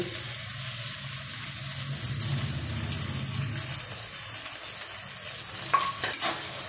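Ginger paste frying in oil in a pan, a loud close sizzle with busy stirring and scraping throughout, a few clinks of the utensil near the end and no talk.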